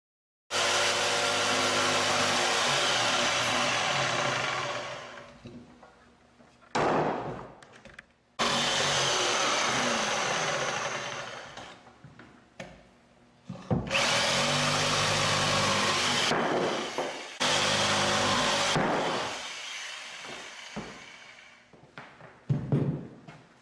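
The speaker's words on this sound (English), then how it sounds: "When you're making a cut with the jigsaw, make sure you let the saw come to a complete stop before you pull it out of the board" A jigsaw cuts through a wooden stair stringer board in several long, loud bursts of harsh buzzing, each ending as the blade winds down, with short quiet gaps between cuts.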